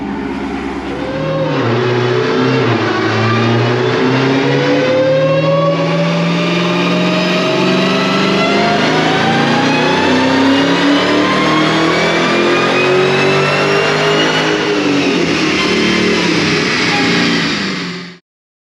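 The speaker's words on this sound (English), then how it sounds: "you guys just saw that dyno run of the car" A 2021 Dodge Charger Hellcat fitted with a HellRaiser setup revs hard on a dyno, its engine climbing steadily in pitch for about fifteen seconds at full, loud volume before cutting off abruptly near the end.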